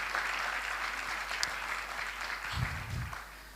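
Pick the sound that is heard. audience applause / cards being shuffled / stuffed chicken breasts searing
audience applause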